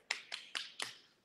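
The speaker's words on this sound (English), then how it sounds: "They're knocking the door and" Four sharp raps on a neighbour's door, evenly spaced and crisp, each one short and hard with a quick fade, heard alone without voices.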